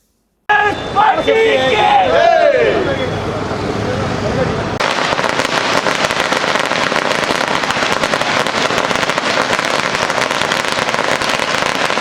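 Congress party workers celebrate a by-election win by bursting firecrackers, a fast crackling barrage of loud pops that runs continuously after an opening stretch of crowd cheering and shouting.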